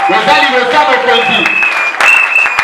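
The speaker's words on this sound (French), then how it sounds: "Est-ce que quelqu'un peut applaudir là?" Clapping from a congregation at a Sunday French-language church service rises around a loud, sustained voice, with the applause surging again near the end.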